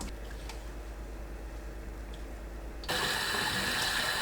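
Tap water runs over raw oysters being rinsed in a sink: a soft, steady trickle that suddenly swells into a louder, fuller gush of flowing water near the end.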